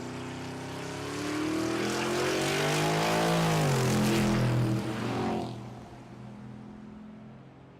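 A C6 Corvette launches on a drag strip at Tulsa Raceway Park, its engine a loud, close, rising roar that climbs through the gears and then drops away as the car pulls off.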